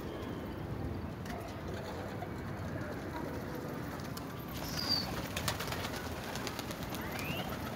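Domestic pigeons coo in a rooftop loft, a soft low murmur steady under constant outdoor background noise, with a few wing flaps or movements near the end.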